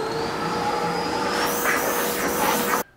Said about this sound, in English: I'm going to go ahead and vacuum that off.